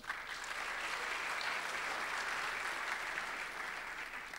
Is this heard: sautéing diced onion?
no